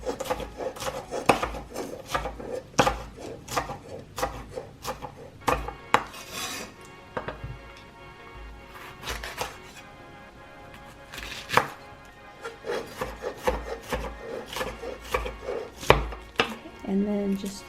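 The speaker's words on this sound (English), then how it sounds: "So we're just going to cut this up" A knife slices a seeded pepper thinly on a cutting board for chicken albondigas, giving steady rapid taps against the wood at close range, with brief pauses and no talking.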